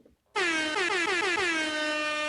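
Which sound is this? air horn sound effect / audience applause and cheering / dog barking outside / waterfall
air horn sound effect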